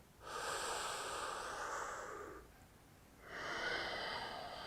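Deep breaths during an intense lower-body yoga stretch: two long, airy exhalations, close to the mic with a short quieter pause between them, and no talk.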